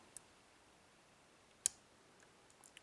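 Faint clicks come from the pins of an ABUS lock as it is picked, a few sparse ticks with one sharper click near the middle, all in near silence.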